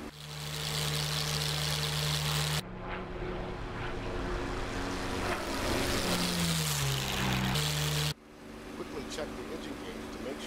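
Steady propeller drone of a WW2 fighter plane climbing after takeoff in the DCS World flight simulator, a loud continuous engine hum with brief shifts in tone and a voice speaking over it.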